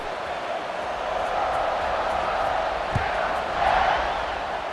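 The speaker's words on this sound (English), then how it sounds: "you think this crowd's going to get loud when their defense comes on the field?" Steady roar of a stadium crowd at kickoff in a college football video game, a broad wash of cheering that swells slightly near the end with a brief thump.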